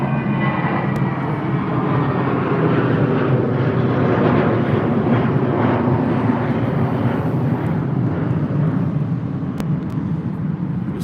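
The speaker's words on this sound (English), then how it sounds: "another British Airways. This one off to Newcastle" A British Airways Airbus A320 climbs away from Heathrow toward Newcastle, its loud, steady jet roar continuous and close, with a broad rumbling wash and no voices.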